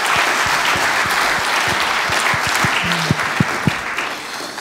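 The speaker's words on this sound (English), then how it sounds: "Give him a big applause." Conference audience applauding a keynote speaker at an audit conference, a steady wash of clapping from a sizeable crowd with a few louder individual claps standing out near the end.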